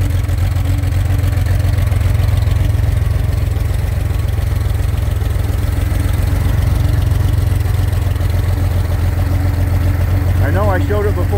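An overbored engine fitted with slightly rejetted race carburetors idles steadily and loudly, its low throbbing drone unchanging throughout, with a brief voice near the end.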